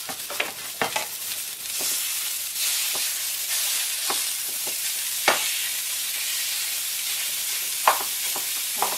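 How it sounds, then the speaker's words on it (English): Ground beef sizzles steadily in a pan with sauteed onions and garlic, a constant bright frying hiss broken by occasional scraping stirs and clacks of a utensil, close and without talk. "I'm going to add the ground beef."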